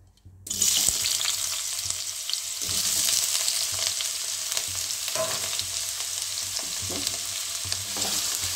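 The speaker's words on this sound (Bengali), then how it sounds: "এইবার আমি আলু স্কোয়ার করে কেটেছি ছোট ছোট করে, সেটা আমি ভাজতে দিচ্ছি।" Small square-cut potato pieces fry in hot oil in a pan, a steady close sizzle starting after a brief quiet moment, with occasional scraping stirs and clinks, and no talking.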